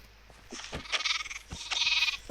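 Sheep bleating in a village survival video game, two short wavering bleats standing alone at moderate volume with small clicks between them.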